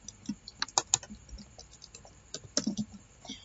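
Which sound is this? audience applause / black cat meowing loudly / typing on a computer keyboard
typing on a computer keyboard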